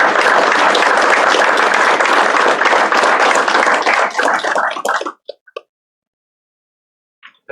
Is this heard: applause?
yes